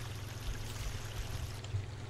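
Water pours out in a Minecraft-style game as a continuous soft rushing stream, faint and steady, with no talking over it.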